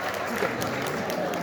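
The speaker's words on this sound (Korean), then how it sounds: "박수입니다." A seminar audience at a product case presentation claps in a dense, steady burst of applause that fills the room evenly from start to finish.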